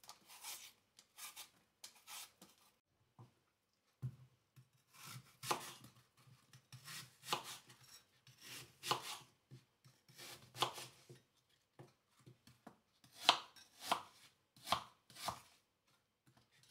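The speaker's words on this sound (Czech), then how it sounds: "Nyní si oloupeme kilo jablek a nakrájíme poté na menší kousky." Knife chopping peeled apples into small pieces on a board, a series of irregular crisp cuts in short bursts with brief pauses between them.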